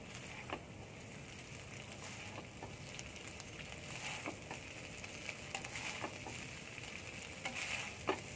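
Chicken fried rice seasoned with ground black pepper is gently mixed in a hot pan, a soft, steady sizzle of frying with faint spatula scrapes and taps scattered through it, nobody speaking.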